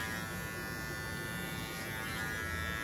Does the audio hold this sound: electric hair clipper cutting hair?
yes